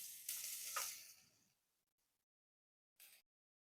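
Nigella seeds and grated ginger hit hot oil in a pan with a loud, bright sizzle that fades over about a second, then a short second burst of sizzling after a pause.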